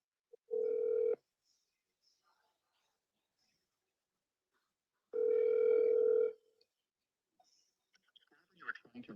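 An outgoing phone call rings out toward voicemail, with two long steady ringback tones a few seconds apart, clear and fairly loud over near silence, then faint voice sounds at the end.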